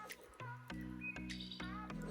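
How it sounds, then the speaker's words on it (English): A flute bird sings in a wilderness camping area along back roads, clear tonal whistled notes in short repeated phrases, fairly close and alone over a faint background. "Do you hear that? Hear that flute bird?"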